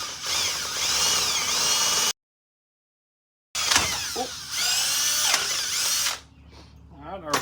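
A power drill cuts a 5/16 hole for a Kubota L4701 tractor mirror bracket, whining loudly under load with a sudden silent gap before drilling resumes, then winding down.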